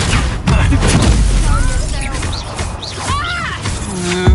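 A Confringo explosive spell from the Hogwarts Legacy video game goes off with a loud, low boom, followed by crackling battle effects and rising whooshes while a voice speaks over the mix.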